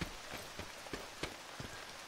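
Rain in the survival video game H1Z1 patters softly and steadily on surfaces, faint, with a few louder drop-like taps spaced irregularly.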